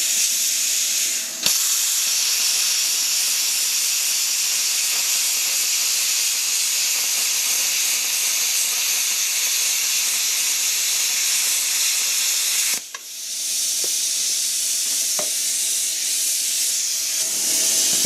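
An Rtech P50 hand plasma cutting torch slicing through a thick steel bottle from an old steam generator, a loud, steady roaring hiss that breaks off briefly twice before resuming.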